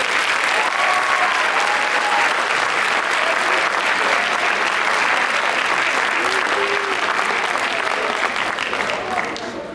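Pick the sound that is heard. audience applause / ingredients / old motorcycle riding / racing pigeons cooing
audience applause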